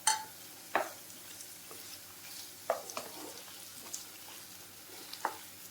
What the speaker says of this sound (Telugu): ఇవి బాగా ఫ్రై చేసుకోవాలండి